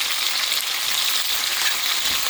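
Ackee and saltfish sautéing in a pan, a close, loud and continuous frying sizzle with no pauses.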